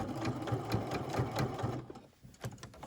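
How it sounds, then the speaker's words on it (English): A domestic sewing machine top stitches a shirt collar band in a fast, even rhythmic chatter that stops briefly near the end, then resumes in a few stitches. "Anytime you're top stitching, you want to be really vigilant about your top stitching because it is going to be seen on the other side."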